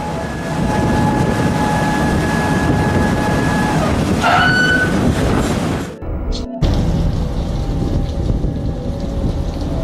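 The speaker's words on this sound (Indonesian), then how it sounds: "Suara mesin wings berputar menarik jaring ke atas kapal." A steady mechanical drone of a ship's winch hauling a fishing net aboard a factory trawler, running loudly beneath wind and rumbling engine noise, with a brief whine partway through and a short drop-out near the middle.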